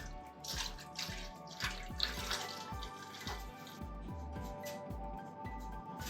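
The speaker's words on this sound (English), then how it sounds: "we're going to fill our oil reservoir with 8 quarts or just under 2 gallons of oil" Cooking oil glugs from a jug into the reservoir of a pressure fryer, a rhythmic series of low pouring gulps with a liquid trickle, quiet and close.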